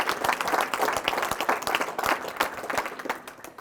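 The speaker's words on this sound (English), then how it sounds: "there's applause right there" A room of people breaks into applause during a workforce development funding announcement, a mid-sized crowd clapping with audible individual claps over a steady bed, fairly close and moderately loud.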